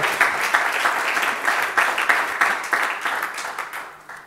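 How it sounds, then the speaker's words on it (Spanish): Church congregation clapping together in a steady, fairly loud burst of applause that runs for a few seconds before tapering off toward the end. "Dale un aplauso al Señor."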